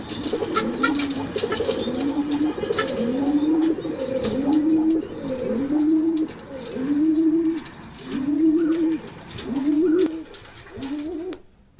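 A pigeon sick with a cold coos over and over in a steady, rhythmic series of about eight soft, throaty calls, close by and alone, with faint chirps in the background.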